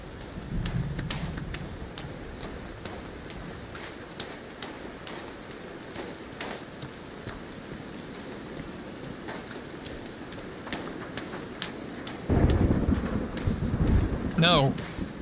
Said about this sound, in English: I get it, we're on an island, but does it really have to rain this fucking much?